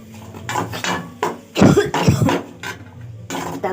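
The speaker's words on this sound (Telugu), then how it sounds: "దగ్గు వస్తుంది తాలింపుకి." Someone coughs repeatedly from the fumes of spices tempering in hot oil, loud and close, in several harsh bursts with clinks of kitchen utensils between them.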